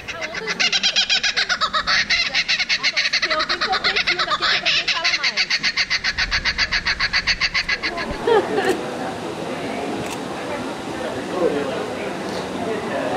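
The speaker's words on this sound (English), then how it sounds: "About how old is this particular kookaburra?" A young kookaburra at a food festival gives a loud, rapid, rhythmic cackling call close by for about eight seconds, then stops, leaving background noise and faint voices.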